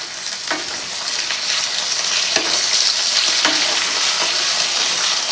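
Okra and onion with fresh coconut being stirred in a pan, a continuous close frying hiss broken by a few sharp spoon scrapes against the pan, no voices.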